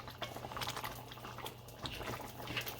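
Lamb stew with whole chilies simmers in a pot, giving a steady, close bubbling and soft liquid gurgle with small pops throughout.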